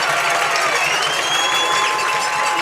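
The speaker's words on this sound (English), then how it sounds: "Fans are cheering. Everyone's loud. And the fans are cheering." Football fans cheering at a Tennessee high school game between Upperman and Greenville, a steady, loud roar of crowd noise and whistling from the stands, sustained without letup.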